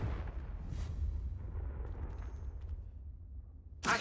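Confringo fire spell bursting in Hogwarts Legacy: a steady low rumble carries a dull blast early on, then a sharp, loud burst of noise right at the end.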